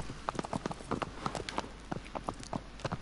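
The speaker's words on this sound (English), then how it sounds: "I like the sound of the hooves." Horse hooves clip-clop at a steady trot in Shadow of the Colossus, a continuous rhythm of crisp hoof strikes close up, with faint background ambience.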